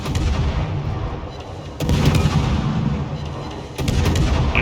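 Warship artillery salvos in World of Warships boom out in heavy repeated blasts, three big onsets spaced about two seconds apart, each followed by a rumbling tail, loud and close with no voices.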